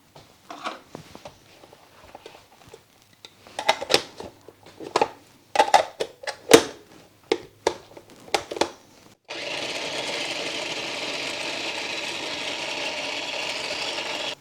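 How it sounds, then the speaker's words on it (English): Washed cranberries are chopped with a series of irregular sharp knife taps and crunches on a cutting board, clustered in quick bursts, before a steady whirring noise takes over near the end. "I have my cranberries washed, and so I'm going to chop up 2 cups of them."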